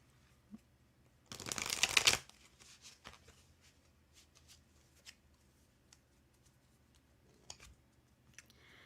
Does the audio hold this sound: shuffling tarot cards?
yes